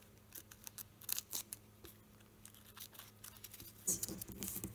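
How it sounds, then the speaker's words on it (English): Small scissors snip through tape on a 1/12 scale miniature dollhouse coffee package, a quiet run of crisp close cuts with light crinkling and a brief louder burst of snips near the end. "Cut out the tape, making sure you're not cutting out the flap that you've folded under."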